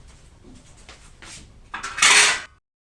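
Carrot and beet juice being stirred and mixed in a dish, soft clinks and scrapes building to a brief louder splashy swirl near the end, with no talking.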